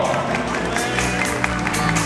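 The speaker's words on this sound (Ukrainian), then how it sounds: "Ось і він за словою ваших аплодисментів, оплески його!" Wedding-reception crowd applauding the groom Vadym, steady dense clapping layered over loud music with cheering voices mixed in, continuous for a couple of seconds.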